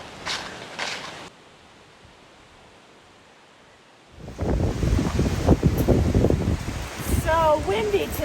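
Gusty wind buffets the microphone outdoors during a walk, a loud rushing roar that drops away briefly and then returns strongly, with a voice talking over it.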